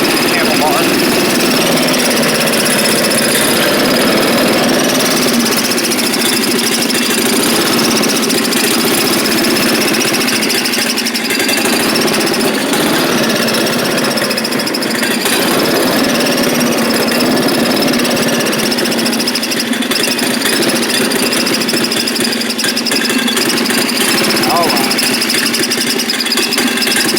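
A Heald Hauler vehicle's engine runs steadily throughout a slow drive around a yard, a loud, continuous mechanical drone with a rough, knocking texture and no clear breaks.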